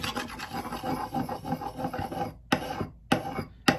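An axe edge is sharpened by hand on abrasive grits: a continuous close rasping scrape, then three short, separate strokes at the end.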